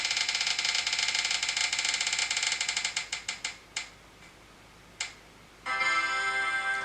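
A spinning prize wheel ticking rapidly as it turns, then the clicks spread out and slow to a few isolated ticks before it stops. A brief louder tonal burst follows.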